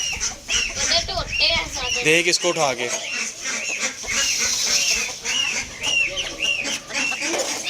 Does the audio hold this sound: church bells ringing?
no